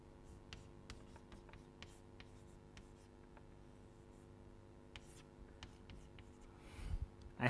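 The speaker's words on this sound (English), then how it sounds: "I will write it again here" Chalk or marker taps and scratches faintly on a lecture board in scattered short strokes, soft and somewhat distant over a low steady room hum, with a louder bump at the end.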